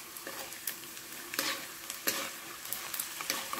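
Peanuts frying in hot oil in a pan over a lowered flame: a steady close sizzle with bursts of louder crackle and stirring scrapes throughout, no talking.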